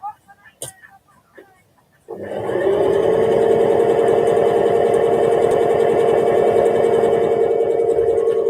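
A sewing machine stitching black trousers starts up after a few quiet handling sounds, then runs loud and steady with a fast, even mechanical whir until the end.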